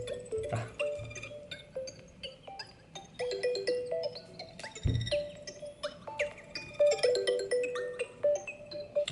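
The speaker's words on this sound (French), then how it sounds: "Peut-être qu'il y en a qui l'ont pour sonnerie de téléphone." A phone ringtone plays out as a bright, chirpy electronic melody of short repeated notes in a bouncy rhythm, moderately loud and unaccompanied by speech.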